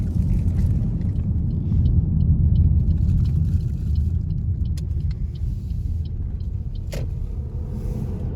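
A car on the Pokrovsky highway heading out on a winter fishing trip, heard from inside as a steady, loud low road rumble and engine drone with a few faint clicks and rattles.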